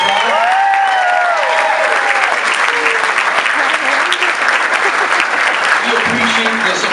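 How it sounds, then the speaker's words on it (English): An audience at a school district recognition speech claps in sustained, dense applause, loud and continuous for several seconds, with a few faint cheers and voices mixed in. "Can we give Yamilet a big round of applause"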